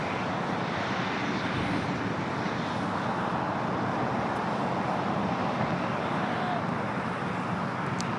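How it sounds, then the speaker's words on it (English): An Airbus A380 airliner at LAX gives off a steady, broad engine roar that holds even throughout, heard from some distance at an airport with no speech. "the A380 Super running early here today"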